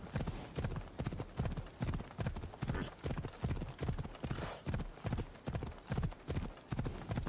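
A horse's hooves clip-clop at a steady trotting rhythm in Assassin's Creed Odyssey, loud and close, with faint background ambience and no speech.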